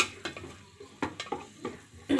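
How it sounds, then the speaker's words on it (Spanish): Onion frying in a pan while being stirred, with a few sharp scrapes and taps of the spoon against the pan over a soft sizzle. "hay que estarle moviendo para que más o menos así como que se queme tantito la cebolla"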